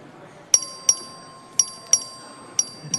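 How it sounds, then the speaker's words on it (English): A clerk's bell rings in a state legislative chamber to open a record vote on a bill: six sharp, bright metallic dings spaced irregularly, each decaying quickly, over faint room murmur. "This is the record vote. The clerk ring the bell."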